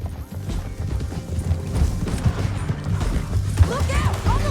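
Horses gallop in the video game Red Dead Redemption 2, a rapid, rolling clip-clop of hooves close by with a whinny near the end, while characters talk over the running.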